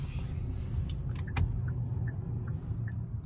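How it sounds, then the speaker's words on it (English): A 2025 Kia K5 LXS sedan's turn signal ticks steadily inside the cabin, soft evenly spaced clicks about every half second over a low engine and road rumble. "So that's not actually such a bad blinker noise."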